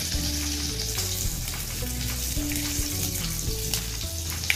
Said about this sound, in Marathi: इथे मी थोडंसं आलं किसून घेतलेलं आहे ते टाकूया. व हे आपण व्यवस्थित सर्व साधारण 1 मिनिट परतून घेऊया